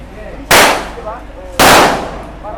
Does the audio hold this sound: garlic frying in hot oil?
no